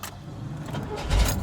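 A brief metallic jingle of 1973 Chevrolet Corvette Stingray keys close by, with a low thump at the end.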